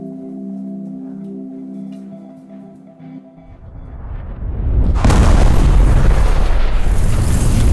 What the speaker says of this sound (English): An explosion at St. Martha's School.